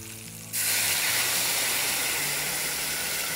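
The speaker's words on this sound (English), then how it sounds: "I'm gonna turn the heat off and I'm gonna add bourbon. Can you hear the sizzle?" A loud, steady sizzle bursts in abruptly and keeps hissing as bourbon is poured into a hot pan of frying bacon with the heat turned off.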